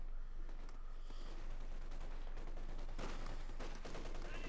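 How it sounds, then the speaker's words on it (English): Sustained Panther tank machine gun fire in Company of Heroes 2, with dense continuous battlefield gunfire crackling throughout and occasional louder bursts, no talk. "We got the Panther machine guns also laying down fire."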